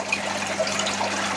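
Water flushing steadily out through an outlet being used as a pump to clear anesthetic from a system, a continuous close hiss and trickle with no break.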